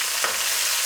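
Spices sizzle in frying kebab filling for nems in a pan, a dense, close hiss with a brief scrape as the mixture is stirred.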